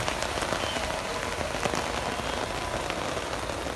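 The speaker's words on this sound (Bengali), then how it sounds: "রোদের মধ্যে বৃষ্টি হচ্ছে।" Rain falls during bright sunshine, a dense, even patter of drops on surfaces close by, steady and moderately loud throughout with no voices.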